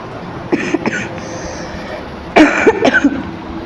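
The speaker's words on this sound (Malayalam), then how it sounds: "ഇടയ്ക്ക് ചുമയൊക്കെ വരുന്നുണ്ട്, നിങ്ങൾ ക്ഷമിക്കുക" A person coughs twice, then a louder burst of several harsh coughs follows, with quiet room noise between, while playing a horror game.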